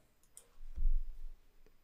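A single soft mouse click on a software dialog's OK button, close and brief against near silence.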